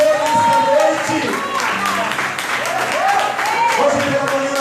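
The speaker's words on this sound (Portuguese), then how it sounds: "Aplauda o Senhor nesta noite." A congregation claps together during an evening church family service, dense sustained applause mixed with cheering voices and a speaker talking over it.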